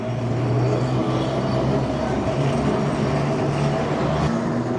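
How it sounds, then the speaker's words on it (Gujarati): A streetcar rolls along Canal Street in New Orleans, heard as a steady, loud rumble and rattle of the car on its rails, with no voices. "આ તમે ટ્રામ્પ જુઓ"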